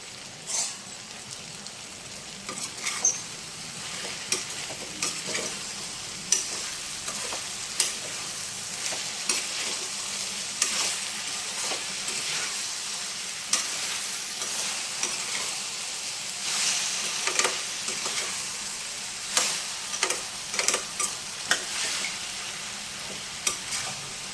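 Tomato puree and vegetables for a mixed vegetable curry sizzle steadily in a pan, a continuous frying hiss broken by periodic stirring scrapes, with no talking.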